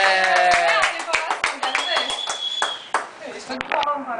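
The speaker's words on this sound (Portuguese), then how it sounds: "palmas pra Vitória" A small group of people clap by hand, sharp distinct claps in an uneven rhythm close by, with voices talking and a high tone ringing over them.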